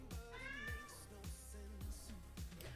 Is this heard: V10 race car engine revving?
no